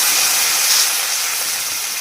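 Onions hitting hot oil give a loud, steady, bright sizzle that holds evenly throughout and slowly eases, with no talking.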